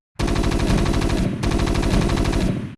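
Two long, dense bursts of rapid automatic gunfire, loud and close, separated by a brief gap and with no voices.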